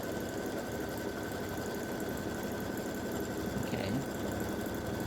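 An embroidery machine stitches a hummingbird and hibiscus quilting design with a steady mechanical whirr and rapid needle chatter, even and continuous at moderate loudness.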